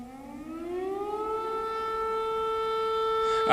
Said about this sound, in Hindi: ये एयर रेड सायरन है